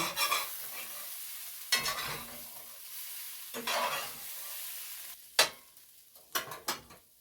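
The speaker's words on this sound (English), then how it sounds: "Bacon's coming along. It's almost done." Bacon sizzles in a hot pan in loud, fizzy bursts with quieter stretches between, as it is stirred and turned, crackling close by.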